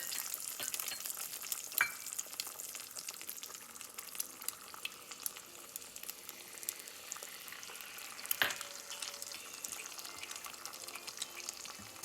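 Eggs, cracked into a ramekin, sizzling steadily as they fry over medium in a hot pan, a constant bright crackle with a couple of louder spits, close and without talk.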